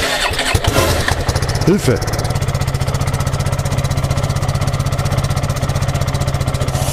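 An XTREME Supermoto 480 quad engine fires up and settles into a loud, steady, rapidly pulsing idle at a standstill during a decibel measurement, with a person shouting briefly near the start.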